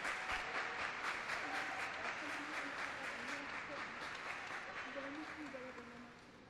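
Applause from an audience at a solemn session honouring Black, Latin American and Caribbean women in Brazil, a steady dense wash of clapping lasting throughout, slowly tapering toward the end, with faint voices beneath.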